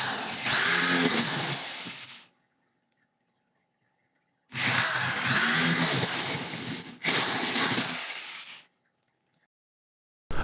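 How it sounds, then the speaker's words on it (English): A power drill with a 1/2 size metal bit whirs loudly into metal in three bursts, the first long, then two shorter ones back to back, with silent pauses between, while mounting a ceiling fan bracket. "Use a size 1/2 metal drill bit."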